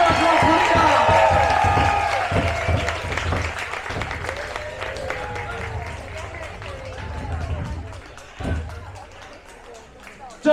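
Loud clapping and cheering rise from the audience at a Polynesian Cultural Center show, then fade into scattered claps while a host keeps talking over the crowd.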